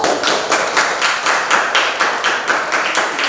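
Class of students applauding, a steady rhythmic burst of hand clapping, close and fairly loud, with no talk.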